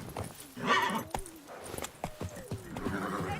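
Horse hooves clip-clop in The Witcher 3: Wild Hunt as a horse is urged on, with a whinny and scattered hoofbeats close up over faint game ambience.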